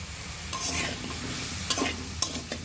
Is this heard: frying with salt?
yes